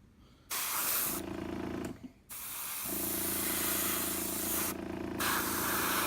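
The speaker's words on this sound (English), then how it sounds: "It's good to overspray just a little bit onto the front, the top, so that way I can create a line later on." Airbrush or spray can laying a blue base coat onto a model bomber kit, a steady loud hiss in long bursts with short pauses between passes, alone without talk.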